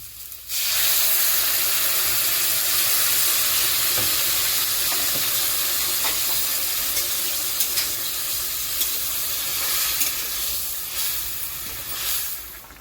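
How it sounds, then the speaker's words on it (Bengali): Hot water coming to a boil in an omelette curry gravy with fried potatoes, a steady close sizzling hiss that runs unbroken throughout with no voices. "জল ফুটে গেছে।"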